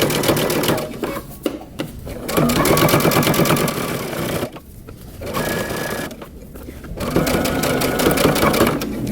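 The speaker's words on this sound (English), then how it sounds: "starting at the shoulder, we're going to stitch around the back" Sewing machine stitching around the back facing of a long coat from the shoulder, loud rapid mechanical chatter in several runs broken by short pauses, with no talking.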